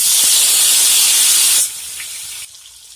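Tomatoes tipped into hot oil seasoned with asafoetida for a potato curry set off a loud, dense hiss that holds steady, then drops abruptly and fades to a quieter sizzle.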